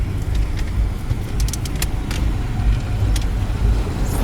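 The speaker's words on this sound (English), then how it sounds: "It's the old rubbish truck" An old rubbish truck rolls along a town street, producing a steady, heavy low-frequency engine and road rumble that stays fairly loud and close for the whole stretch, with no voices.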